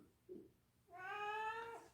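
A cat gives one clear, drawn-out meow after a brief soft vocal sound, close and fairly loud in a quiet room, with no talking.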